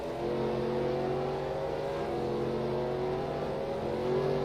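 Race car engine roaring steadily as it accelerates away from pit road during a caution in a 2004 stock car series race at Phoenix, a loud sustained high-revving drone with no talk.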